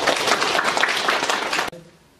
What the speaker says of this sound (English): Good answer, applause!